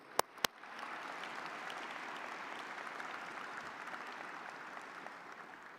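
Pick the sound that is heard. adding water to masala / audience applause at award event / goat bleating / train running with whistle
audience applause at award event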